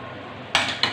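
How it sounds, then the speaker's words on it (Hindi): Boiled spaghetti dropped into a pan of cooked chicken, two short clattering bursts of noodles and metal against the pan after a quiet moment. "मिक्स करके अब हम इसमें ऐड करेंगे स्पैगेटीज जो हमने बॉईल करके रखी है"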